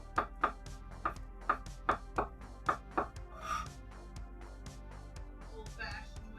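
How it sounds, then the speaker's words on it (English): Mashed potatoes get whisked by hand, a run of evenly spaced clinking strokes against the bowl followed by softer, quicker stirring, with faint talk underneath. "I'm just going to use a whisk"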